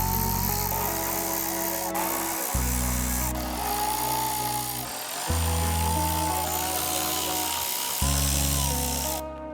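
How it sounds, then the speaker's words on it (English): A power ratchet or driver spins out the bolts that hold a Toyota Tundra's front fender flares. It whirs loudly in several sustained bursts of a few seconds each, with short pauses between them, close up and with no talking. "let's go ahead and get the 9 bolts out that is holding the front fender flares on"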